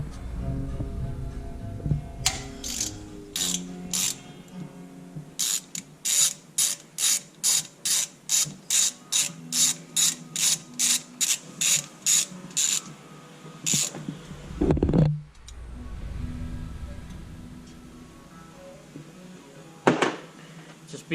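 Ratchet with a 6mm Allen bit working loose the exhaust head pipe on a 2021 Trail S 1000 motorcycle: a long, even run of about twenty crisp clicks, close, followed by a few heavier knocks and clatters.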